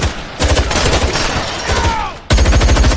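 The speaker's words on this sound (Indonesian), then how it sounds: "hingga terjadi aksi tembak pada momen ini" Rapid gunfire from a movie shootout in a heist, with loud bursts of shots, a lull of scattered fire and then a renewed volley near the end.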